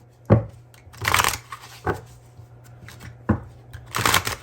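Tarot cards from a Celestial Cosmos deck shuffle in several brisk riffling bursts, close and crisp, separated by short pauses with a faint steady hum underneath.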